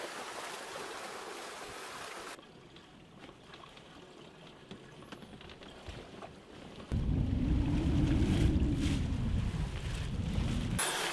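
Sailboat running on the open ocean at night at 6 to 7 knots in building wind, with steady wind rush and water noise that swells into a loud, close rush of hull through waves in the second half.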